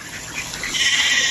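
Goats at an animal sanctuary in Tagaytay bleat close by, a wavering nasal cry rising in loudness over a faint background of outdoor noise.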